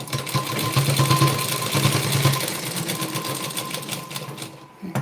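A sewing machine runs steadily while stitching a hook strip for a blouse, a continuous close mechanical whirr with rapid needle beats that eases slightly near the end.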